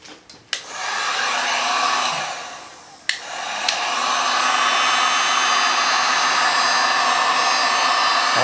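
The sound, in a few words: heat gun blowing on resin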